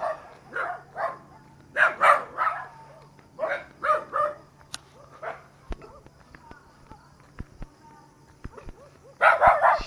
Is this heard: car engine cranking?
no